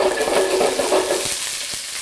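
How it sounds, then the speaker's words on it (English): Thin strips of pepper sizzle and spit in a very hot pan, a steady close hiss dotted with small pops throughout. "The pan's very hot, so it's just going to spit a little bit."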